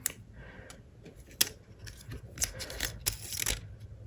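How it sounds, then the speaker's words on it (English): Scattered crisp tearing and clicking sounds of cardboard and plastic as the pull tab is removed from a 4th-generation iPod Shuffle box, close and fairly quiet, with no speech. "it's just as easy as removing this pull tab"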